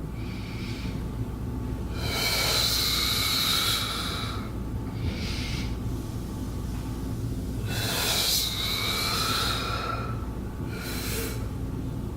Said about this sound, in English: I'm going to go ahead and inhale.